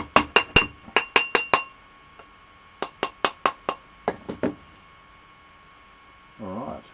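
Metal being hammered flat against a mandrel: two bursts of sharp, ringing clinking strikes, about seven quick blows then a shorter run of similar taps, over a steady hum, ending with a brief low murmur.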